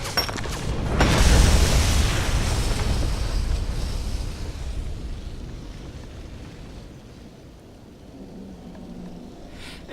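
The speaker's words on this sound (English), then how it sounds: "That thing's about to explode!" A big explosion in the shooter game Defiance booms out after a short lead-in, its heavy low rumble rolling and slowly fading over several seconds, with no speech.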